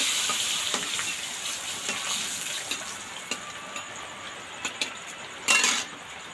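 Spices fry in oil in a pan for chicken kosha with a steady soft sizzle, occasional spoon taps and clinks, and a louder scrape and splash of stirring near the end.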